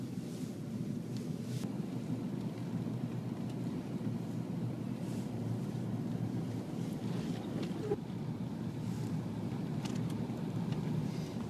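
Strong wind from a blizzard roars steadily outdoors, a dense, constant rushing and buffeting close to the microphone with no pauses and no voices.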